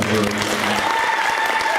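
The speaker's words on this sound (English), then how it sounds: "So give them another round of applause." Church congregation applauding during a youth Sunday service: a short burst of dense clapping, fairly loud and close, with a voice briefly audible at the start.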